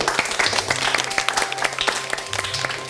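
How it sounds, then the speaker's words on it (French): A crowd applauds in a drama scene, a steady run of clapping hands with a faint sustained tone beneath and no one speaking over it. "Et la foule se met à vous applaudir."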